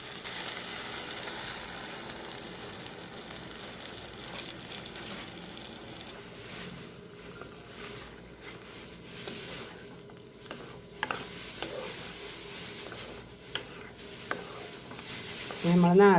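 Ground coconut paste is added and stirred into a simmering curry with capsicum, giving soft wet squishing and scraping over a steady low sizzle and bubbling, with a few sharper clinks of the spoon toward the end.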